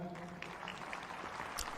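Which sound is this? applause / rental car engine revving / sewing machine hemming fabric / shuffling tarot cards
applause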